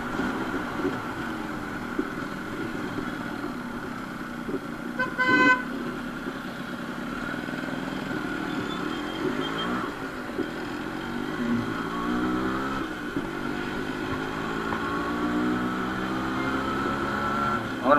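A modified-exhaust Yamaha RX100 motorcycle engine idles and revs with a rough, continuous drone. It sounds moderately close, with a short horn-like toot partway through and no talking.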